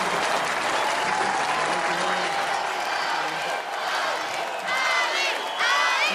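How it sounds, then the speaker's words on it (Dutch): A large concert audience at an Oranje Zingt Zuid event in Maastricht applauds steadily, dense clapping with scattered whistles and cheers rising toward the end. "Geef je mij wel een fantastisch applaus, dames en heren!"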